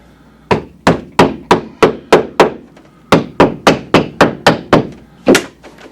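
Sharp hammer blows on prongs along the panel edge of a club chair being reupholstered, struck in two quick, evenly spaced runs of about a dozen close, loud whacks with a short pause between.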